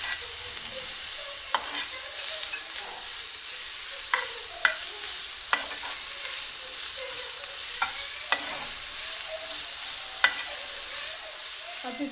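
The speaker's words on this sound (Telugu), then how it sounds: "ఇప్పుడు మనం ఈ విధంగా బీట్రూట్ నేతిలో వేయించుకున్నాము" Beetroot frying in ghee gives off a steady bright sizzle throughout, with occasional soft spoon taps and stirring scrapes against the pan.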